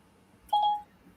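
A mobile phone's voice assistant activation chime, a short bright two-tone electronic beep heard once, clear and close in an otherwise quiet room.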